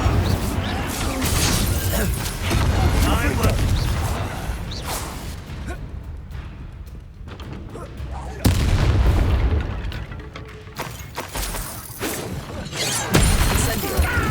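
An Incendio fire spell in Hogwarts Legacy bursts amid loud game combat, with booming blasts, whooshes and crackling impacts over a dense battle din, and voices calling out in between.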